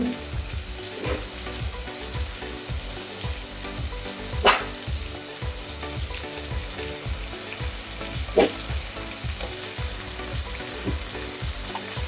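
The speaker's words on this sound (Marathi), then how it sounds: "आता हे वाटण तेल सुटेपर्यंत छानपैकी असं फ्राय करून घ्यायचं ह्या कांदा मध्ये" Onion and coconut paste frying in hot oil for a Marathi spicy egg curry, a steady close sizzle with periodic soft stirring scrapes and a couple of sharper clinks, no talking.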